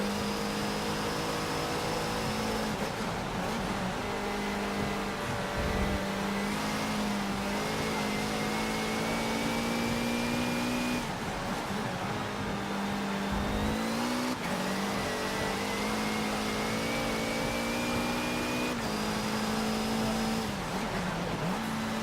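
A race car engine in the Forza racing game drones loudly and continuously, its revs climbing in long rising sweeps with brief drops at gear changes and through corners.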